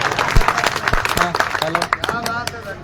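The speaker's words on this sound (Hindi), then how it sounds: "बजाओ ताली एक लेने का" A crowd at a political speech claps and applauds in a brief burst, with voices talking and shouting over the clapping.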